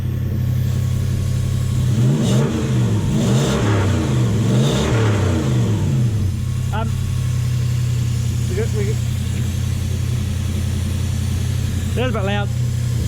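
A car engine with an exhaust leak revs hard in several rising and falling bursts over a steady rumbling idle, loud and close, then settles back to idling while a person talks.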